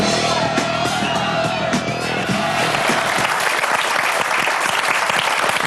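A studio audience applauds loudly and continuously for a comedy TV show, with whoops and shouts mixed in and music fading out under the crowd noise.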